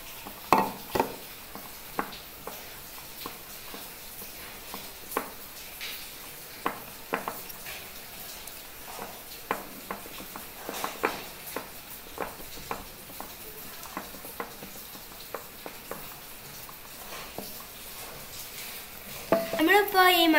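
Flour being stirred into cake batter for a black forest cake, with soft repeated scraping and tapping strokes of a utensil against the bowl, close and steady, under intermittent talk.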